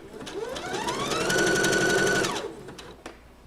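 A sewing machine back-stitches a t-shirt seam in one continuous close run of rapid whirring stitches, with a rising and falling motor pitch, then stops with a few small clicks at the end.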